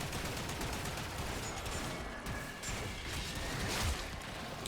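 Kick gun fire in the video game Warframe, a dense continuous barrage of gunfire and impact crashes with whooshes running throughout at a loud, even level.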